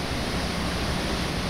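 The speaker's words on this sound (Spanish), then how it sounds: "Nos encontramos aquí en el vado del río San Pedro, que está algo crecido" The swollen San Pedro river rushes across a ford in Rosales, Chihuahua, making a constant loud broadband roar of flowing water with no other sounds.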